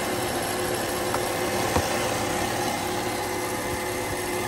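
A BMW M3 engine on a convertible salvage-auction car runs steadily at idle: a continuous, even drone with a faint click partway through, fairly loud and alone with no talking.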